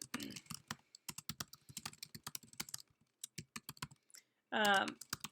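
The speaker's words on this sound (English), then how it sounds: "I'll just type that here." Quick bursts of clicky keystrokes on a computer keyboard, close and crisp, pausing briefly before a short spoken word near the end.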